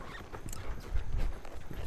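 Horse hooves clip-clop on the ground during a round of horse soccer, an irregular run of soft thuds with a louder, denser burst near the middle, close by and steady, with faint ambient noise and no voices.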